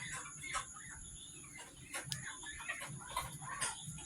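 Several chickens cluck intermittently at moderate distance, with short bursts of bird calls over a steady low outdoor background.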